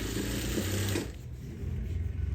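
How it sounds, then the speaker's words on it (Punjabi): A sewing machine stitches a salwar hem with a close, steady mechanical whir that drops in tone partway through and then keeps running, with no voices. "ਹੁਣ ਇਹਦੇ ਉੱਪਰ ਵੀ ਆਪਾਂ ਇੱਕ ਸਲਾਈ ਲਗਾਵਾਂਗੇ"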